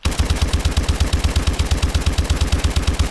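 The Adept rifle in Call of Duty Advanced Warfare, a supply-drop variant with reduced fire rate, firing full auto: a steady, evenly spaced stream of close, punchy shots at a brisk mechanical rhythm without pause.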